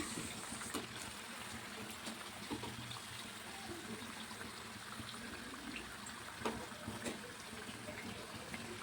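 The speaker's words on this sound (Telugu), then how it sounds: "ఇలా దూరగా వేపుకోవాలి డీప్ ఫ్రై చేసుకోవాలండి ఆయిల్లోనే" Kajjikayalu, sweet dumplings filled with roasted gram and jaggery, deep-fry in oil with a steady, dense bubbling hiss that stays even throughout, broken by a few faint clicks.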